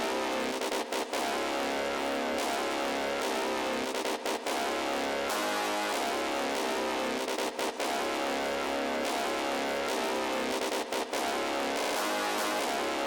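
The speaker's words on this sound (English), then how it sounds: "the first thing that I laid down for the melody is this brass from Vnexy's 3K drum kit" A brass melody sample from Vnexy's 3K drum kit plays as a dense, loud, continuous wall of bright tones, broken by brief dropouts that recur every few seconds.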